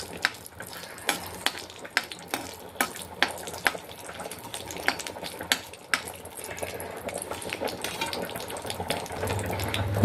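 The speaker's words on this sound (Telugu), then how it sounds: "ఆయిల్ హీట్ అయిందండి. ఇందులో చెక్క, ఇలాచి, లవంగం వేసుకొని" Cinnamon, cardamom and cloves frying in hot oil, a crackling sizzle with a run of sharp clicks and spatters in the first half, then a denser, busier bubbling fry, close up with no voices.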